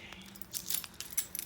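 Car keys for a 1982 Trans Am jangle briefly in a few quick metallic bursts, fairly faint, with no talking.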